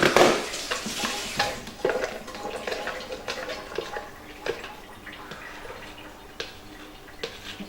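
A little spoon stirring chocolate cake mixture, giving repeated soft clinks and wet scraping strokes against the bowl, close and fairly quiet, with no voices.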